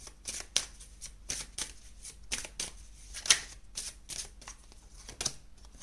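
Tarot cards being shuffled and drawn, a close series of crisp riffling and flicking bursts with short gaps between, quiet and alone.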